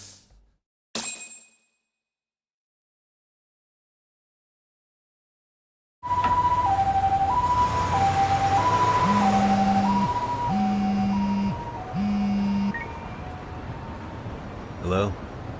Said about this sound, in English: Can you get an ambulance over to your bar right away?